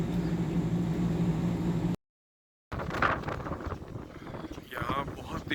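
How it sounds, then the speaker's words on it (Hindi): Strong, cold wind on a road near a petrol pump buffets the microphone in a loud, steady roar. The roar stops for a moment, then returns under a voice. "यहाँ बहुत तेज़ हवा है"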